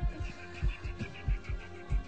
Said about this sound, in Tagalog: Uy, pero ang kanyang heartbeat, para bagang kinabahan ng bagya sa tanong na ito.